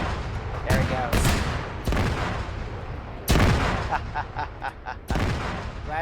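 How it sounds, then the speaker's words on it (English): A tank cooking off and exploding in the video game Arma 3, heard as several loud, sharp blasts spaced through a few seconds, each with a rumbling tail, some crackle between them. "Murphy's about to cook off and explode."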